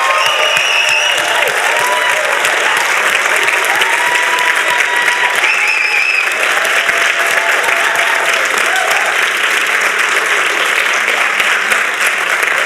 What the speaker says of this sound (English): Can we give them an Enactus applause for Action with Africa?